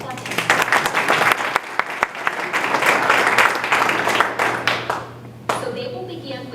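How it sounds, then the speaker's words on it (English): An indoor audience at a candidate forum claps steadily to welcome the candidates, a dense burst of applause that fades near the end, followed by a voice starting to speak. "Applause."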